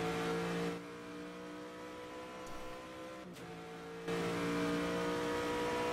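An Aston Martin racing car engine in an endurance sim racing game at Le Mans, a steady loud onboard drone with a sustained harmonic whine that drops slightly in level, then returns louder.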